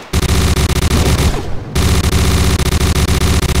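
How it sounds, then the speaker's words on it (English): Enemy gunfire in the VR shooter game CyberThreat: loud, close, rapid automatic bursts with regular sharp shots, a brief pause near the middle, then continuous firing resumes. "I'll wait until he shoots."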